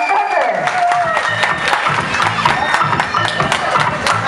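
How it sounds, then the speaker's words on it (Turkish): Audience applause and cheering with a dense wash of crowd noise and steady clapping, loud and continuous, with a repeating rhythmic thump underneath and some voices mixed in. "Bravo, alkışlıyoruz. Alkışlar"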